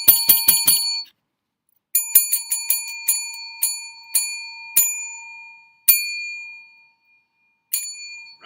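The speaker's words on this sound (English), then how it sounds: "Oh, the bells are tolling." Bells ringing close and loud, a burst of rapid bright strikes followed by slower single rings, each tone sustaining and decaying into silence between hits.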